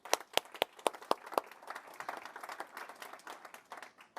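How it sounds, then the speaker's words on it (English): A few sharp, distinct claps start off, then a small audience joins in with moderate, scattered applause that stays fairly soft. "Let's give him a round of applause, if we may."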